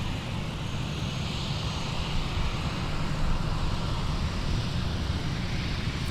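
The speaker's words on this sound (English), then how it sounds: "This is our Korean Air Cargo 777." A Korean Air Cargo Boeing 777 at Minneapolis–St. Paul airport gives off a continuous low jet rumble with a broad hiss, moderately loud and steady throughout, with no voices.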